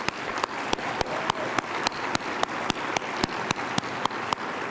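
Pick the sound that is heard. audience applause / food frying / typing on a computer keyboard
audience applause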